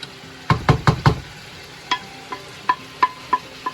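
A spoon stirs masalas into palak chicken frying in a pan, making a quick cluster of four close knocks against the pan, followed by lighter, evenly spaced taps over a faint sizzle.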